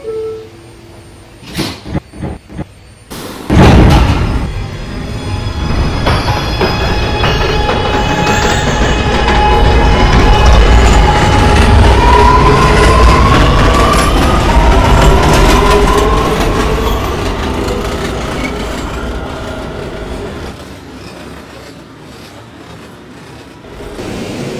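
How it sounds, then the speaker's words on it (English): An R211A New York subway A express train bound for 207th Street runs on the rails with a steady loud rumble and clatter that builds and holds for some twenty seconds, after a few brief clunks at the start. "This is a 207th Street bound A express train."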